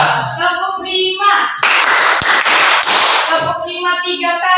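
A classroom of students claps out a rhythm of five beats repeated three times, loud, tight bursts of clapping framed by a group chanting before and after.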